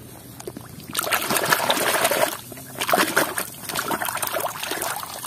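Water splashes and trickles in uneven bursts as a toy excavator is being washed, with sloshing and dribbling up close and a brief lull midway.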